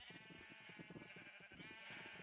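Sheep bleating in Minecraft, a run of rapid, wavering bleats from several animals close by, continuous and fairly loud across the whole stretch.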